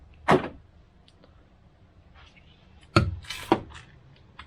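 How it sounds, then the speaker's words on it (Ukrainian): A 2019 Volkswagen e-Golf door thuds shut, followed seconds later by another solid slam and a short rattling clunk, close by, with quiet in between; the car has a faulty door lock. "Зачиняємо двері."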